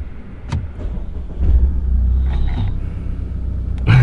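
A children's mini bike engine cranks and starts, a low rumbling motor swelling up close after a few clicks and knocks, loud and steady with a sharper burst near the end.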